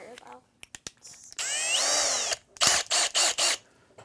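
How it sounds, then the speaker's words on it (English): A power drill whirs in a sustained burst, its pitch rising, followed by several short pulsed trigger bursts, with a few clicks before it starts. "Let's do one more with the power drill."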